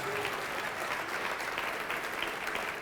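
Church congregation applauding at a worship service, a dense, steady wash of many hands clapping throughout, fairly distant and even.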